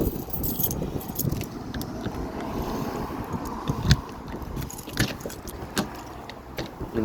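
A pass-through hatch on an R-Pod camper trailer is unlatched and opened, with close metallic clicks, rattles and knocks over a rough, windy background.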